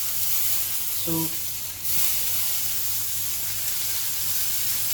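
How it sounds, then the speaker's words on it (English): Beef pieces searing on their sides in a hot pan, producing a constant close hiss and sizzle, with a brief spoken word partway through. "now we have to sear the sides as well"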